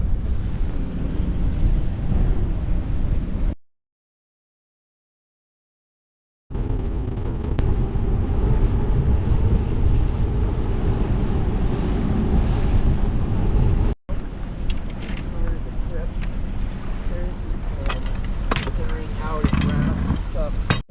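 Brisk south wind blows over the water around a sailboat at anchor on the Atlantic Intracoastal Waterway, a steady loud roaring buffet with splashing waves, broken by a few seconds of silence and a short dropout.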